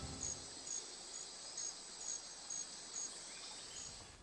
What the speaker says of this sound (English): Insects. One of the first forms of life on this planet.